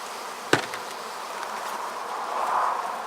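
Honeybees buzz in a steady, moderate hum during a beehive inspection, with one sharp tap or knock near the start and the drone swelling slightly toward the end.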